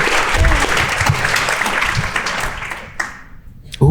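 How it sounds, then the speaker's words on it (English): A conference audience claps for a panel, a dense burst of applause that holds for a few seconds, then fades and stops as a voice begins. "Let's just give our panel a round of applause."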